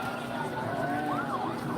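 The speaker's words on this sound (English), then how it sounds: "The sirens are getting loud," Emergency sirens wail near a high school football game between St. Augustine and Clay, a rising and falling tone over steady crowd noise and background chatter, moderately loud as they draw closer.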